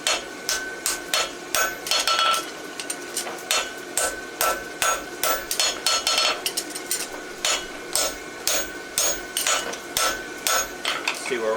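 A farrier hammers horseshoe bar stock for a sporthorse barshoe, bumping it to length with rapid, evenly spaced ringing blows that carry on steadily without talk.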